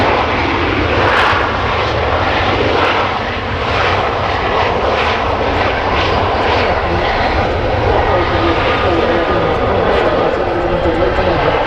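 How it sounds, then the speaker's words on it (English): A KLM airliner lands at Manchester Airport, a loud, sustained broadband engine roar that holds steady throughout at close range as it passes the viewing park. "Here's your favourite landing. KLM."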